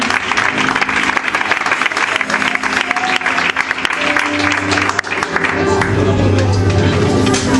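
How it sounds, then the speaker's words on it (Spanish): A church congregation breaks into loud, sustained applause during a Good Friday service, a thick steady wash of clapping and crowd noise with some voices and tones underneath, holding throughout. "Dar un aplauso al Señor"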